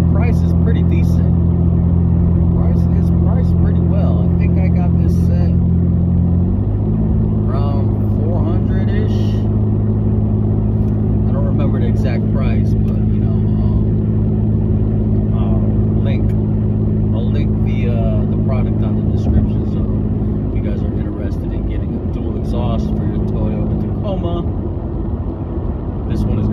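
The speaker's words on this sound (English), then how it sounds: "this is the MBRP dual exhaust for the Toyota Tacoma, third gen" A third-generation Toyota Tacoma with an MBRP Armor Lite dual exhaust idles with a deep, steady rumble, stepping slightly in pitch around seven seconds, loud and close throughout while someone talks over it.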